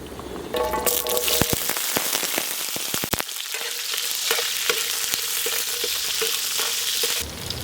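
Peeled small onions and fennel seeds hit hot sesame oil, a loud dense crackling sizzle with sharp pops at first, settling into a steady frying hiss.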